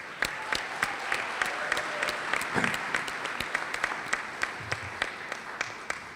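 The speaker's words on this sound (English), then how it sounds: "we'll give her a round of applause" A round of applause rises from the audience at the Florida Bar annual convention awards, steady crowd clapping with sharper individual claps standing out, filling the whole stretch without talk.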